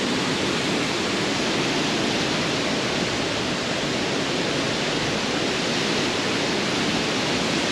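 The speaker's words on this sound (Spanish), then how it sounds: "Pero como ya escucharon, mucho agua allá." Rushing water of the Pailón del Diablo waterfall in Baños, Ecuador, a loud, steady broadband roar that fills the whole clip with no breaks.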